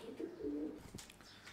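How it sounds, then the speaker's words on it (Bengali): A blue barless German Beauty Homer pigeon gives a soft, low coo in a short rolling phrase early on, followed by quieter shuffling sounds. "এটা হচ্ছে ব্লু বার্লেস জার্মান বিউটি হুমার"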